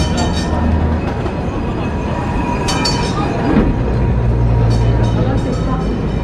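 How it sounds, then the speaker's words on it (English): An old tram rolls along the tracks of Istiklal Street in Istanbul at night, a steady rumbling rail noise running throughout amid the street bustle and crowd chatter. "Ooh, look, the tram's coming this way."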